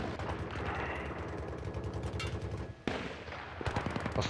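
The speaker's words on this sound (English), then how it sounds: "I hear bullets going past my head." Battlefield 3 gunfire crackles in dense, rapid bursts of machine-gun fire with bullets whizzing past, fairly distant and muffled, broken by a sudden sharp crack near the end before scattered shots resume.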